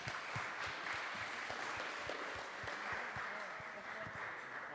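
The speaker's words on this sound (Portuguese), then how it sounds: "Uma salva de palmas aí a Deus e a Daniel" Applause from a church congregation at a youth congress, fairly quiet and steady, with sharper claps standing out at an irregular rhythm beneath a continuous wash of clapping.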